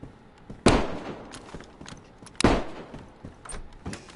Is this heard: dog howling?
no